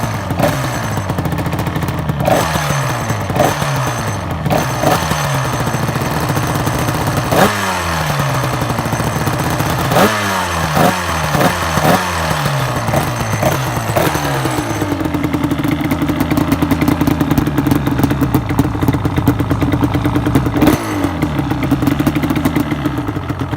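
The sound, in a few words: Banshee 350 engine revving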